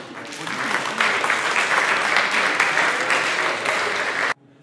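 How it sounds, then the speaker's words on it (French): Audience applause at a hypnosis stage show, a dense, steady wash of many hands clapping that holds at full strength for about four seconds, then cuts off abruptly into near silence. "On l'applaudit, s'il vous plaît."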